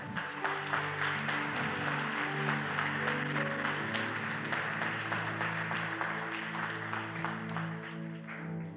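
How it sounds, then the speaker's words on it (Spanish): A church congregation applauds during a sermon, steady sustained clapping with keyboard or organ music playing underneath, the clapping continuing evenly throughout and tapering slightly at the end. "Le damos un aplauso al Señor."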